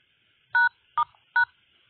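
An Android phone keypad beeps through three short dialing tones, each a crisp dual-tone blip evenly spaced with silence between, close and clean, no voices.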